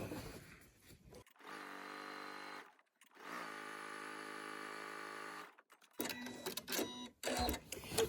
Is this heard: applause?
no